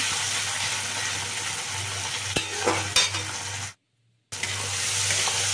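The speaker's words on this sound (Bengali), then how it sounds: "ওর জন্য একটু নুন দিয়ে নাড়াচাড়া করে নিচ্ছি" Tomatoes with salt are stirred and fried in a pan, a close sizzle with a couple of sharp utensil knocks, a steady low hum underneath and a brief dropout of silence.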